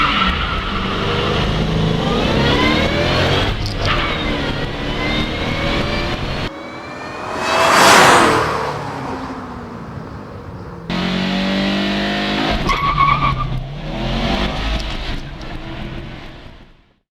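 A Subaru WRX STI and a Ford Mustang Shelby Cobra GT500 SVT in a drag race, engines revving hard and accelerating loudly, with a tire-skid burst midway and the roar fading at the end.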